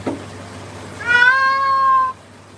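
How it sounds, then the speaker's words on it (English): A wet short-haired cat lets out one loud, drawn-out meow during grooming, lasting about a second, close by and heard alone. "This could very easily just be his I'm wet meow, which is a little bit louder than most cats."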